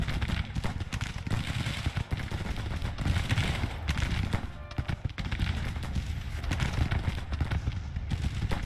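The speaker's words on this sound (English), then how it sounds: "I don't know what they're shooting at me with, though." Dense battle gunfire in Grand Tactician: The Civil War, a continuous crackle of massed rifle volleys and shots, loud and near, rolling on without pause.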